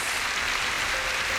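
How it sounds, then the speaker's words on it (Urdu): A church congregation applauds during a worship service, a steady wash of many hands clapping at moderate loudness with no distinct individual claps. "یسوع مسیح کے لیے شاندار تالیاں بجائیں۔"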